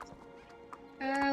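A horse in the online game Star Stable Online, an autumn magic horse, gives a few soft hoof clops, then a loud, close, tonal whinny swells in and holds to the end.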